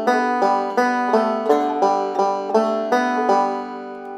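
Banjo plucking the Yankee Doodle phrase, a steady run of bright, ringing picked notes at an even rhythm, close and clear with no voices.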